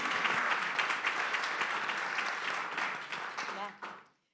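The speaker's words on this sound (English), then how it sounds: "give a round of applause to Shanon" Audience at a Global Summit 2019 conference clapping, a sustained round of applause filling the hall before tapering off, with a voice speaking over it near the end.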